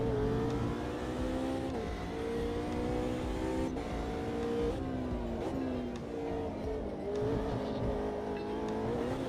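Audi R8 V10 supercar in the sim racing game Automobilista 2, a steady loud engine drone rising and falling through revs and gear changes, continuous and close, with no talking.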